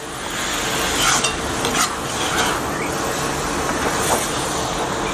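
Mushrooms frying in oil in a pan, a steady close sizzle with occasional stirring scrapes throughout.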